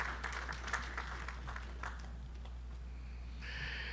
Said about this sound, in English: give our provost a round of applause